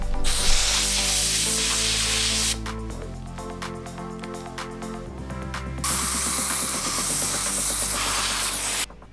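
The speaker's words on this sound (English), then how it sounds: "I'm going to try this sand that I found around the house and see if it works." A sandblaster fed with unsifted household sand sprays a loud, steady hiss that runs almost the whole time, with clicking mechanical bursts partway through and a change in the hiss tone near the end. Nobody speaks.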